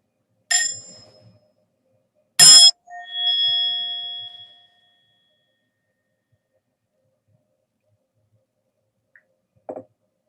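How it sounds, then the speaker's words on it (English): A meditation bell rung to open a Sangha practice session: a short soft chime, then a bright clear strike with a long ringing decay, and a faint distant tap near the end, in a quiet room. "I'm going to ring the bell and then let us start."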